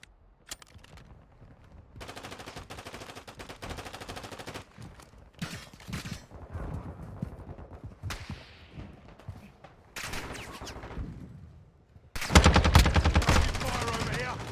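Bursts of automatic gunfire in Call of Duty, rapid rattling volleys separated by short pauses, ending in a louder, denser sustained burst.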